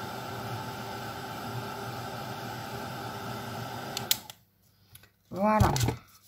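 A heat gun blowing hot air onto embossing powder on a handmade card, a steady loud whooshing hiss that runs for several seconds then cuts off, followed by a brief burst of talking.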